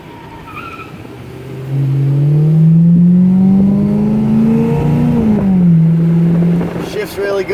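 A 1986 Oldsmobile Cutlass Supreme Brougham on the road, heard from inside as a steady engine drone that rises in pitch as it accelerates and then settles, with road noise beneath.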